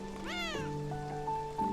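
One short rising meow from a cat in the game Beyond Eyes sounds clearly over soft rainfall and a held musical tone.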